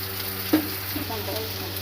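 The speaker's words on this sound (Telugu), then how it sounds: "ఉల్లిపాయలు, మిరపకాయలు మనకు కావాల్సినంత కోసుకొని ఆయిల్లోనే వేయించుకోవాలి." Onions and chillies fry in oil with curry leaves for egg rice, making a steady close sizzle with a brief stirring knock partway through.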